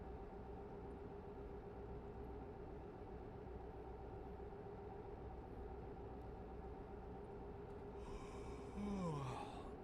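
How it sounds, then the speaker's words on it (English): A truck driver character yawning in a trucking video game, one long drawn-out yawn with a falling pitch near the end, heard over a steady engine and road drone. "That's my dude in the game yawning."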